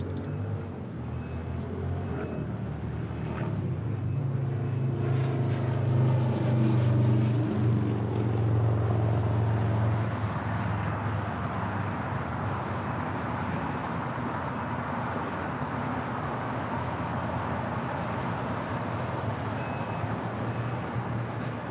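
An Air Canada Airbus A330-300 in minty fresh livery, 23 years old, rolls down runway 25 right at LAX for takeoff, with a steady, loud jet engine roar and a rising whine early on that settles into a broad rumble.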